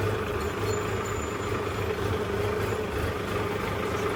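A modified tractor idles in neutral with a steady, low engine rumble. The drone is continuous and even, with no voices over it.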